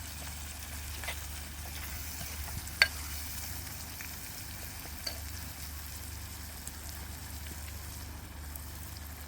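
Onions fry in a pan with a soft, steady sizzle, quiet and close, broken by an occasional stir or clink.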